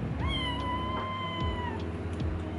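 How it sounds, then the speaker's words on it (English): A kitten meows once in a drawn-out, rising-then-falling cry close to the microphone, with a low steady hum and faint household noise underneath. "We have a kitten over here."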